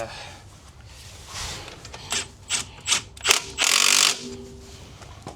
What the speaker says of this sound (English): tighten the top bolt, and once the top bolt is tightened up, you can go ahead and tighten the bottom bolts as well